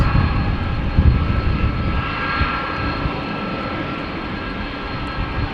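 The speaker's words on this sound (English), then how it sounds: "that means to Embraer 195 in the background" Embraer 195 jet airliner roaring in the background, a steady engine drone with a few louder bumps early on, fairly close and heard alone.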